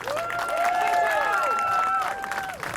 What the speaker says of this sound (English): Let me get a big round of applause for everyone that came out.